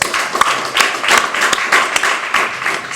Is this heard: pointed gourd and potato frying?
no